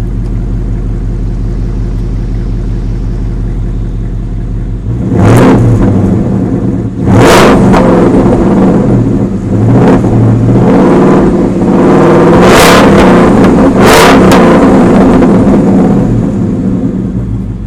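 A supercharged 2017 Ford Mustang Roush idles with a deep, steady rumble, then gets a series of sharp, loud revs that rise and fall several times close by.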